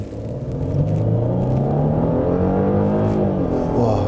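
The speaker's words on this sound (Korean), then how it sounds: "산길이긴 하지만 급가속을 한번 해보겠습니다." A Genesis G80 3.5 turbo AWD accelerates hard on a damp mountain road, its engine note climbing steadily in pitch and growing louder after a quieter start, heard from inside the cabin with no talk.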